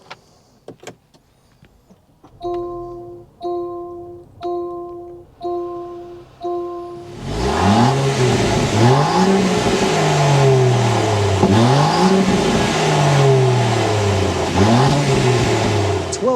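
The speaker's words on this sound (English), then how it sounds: "start up this thing so you can hear that exhaust note" Starter chimes repeat in short beeps, then the large engine of a 2024 Land Rover Defender 110 SUV fires up and revs several times, a loud rising and falling exhaust roar close by.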